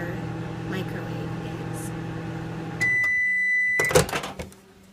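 A microwave oven heats frozen blueberries, a steady hum running for a few seconds with talk over it, then a beep, the door clunking open and the hum stopping.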